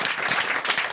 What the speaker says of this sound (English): Yes, go ahead. You can clap,